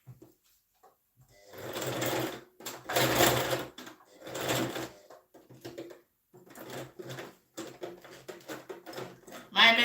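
A sewing machine stitches a kid's shirt in several loud bursts of whirring, starting and stopping, with a machine that seems to need oiling; a voice speaks between runs.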